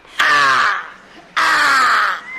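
A crow caws twice, loud and close, each harsh call lasting most of a second, with a short gap between them.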